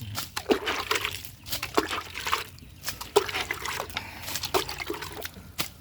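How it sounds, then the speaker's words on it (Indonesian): Liquid is poured in a circle around the base of an avocado tree. It makes an uneven run of trickles and splashes with a rhythmic sloshing pulse and no talk. "Nah, ini kita siram melingkar, yang belum kita siram."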